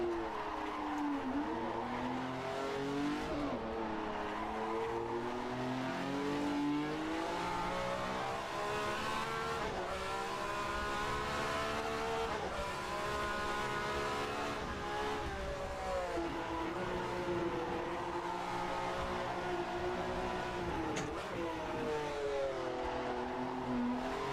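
A 1967 Formula 1 car with spaghetti exhausts screams around the Nordschleife in the rFactor 2 racing simulator, its engine revving high and dipping through gear changes with occasional tire squeal, continuous and close for the whole stretch.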